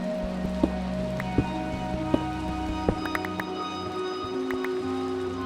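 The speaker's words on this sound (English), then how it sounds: "Oh, you can hear it's raining." Steady rain falls in a Minecraft world, a continuous soft hiss with a few sharper pattering taps scattered through it, with no voices.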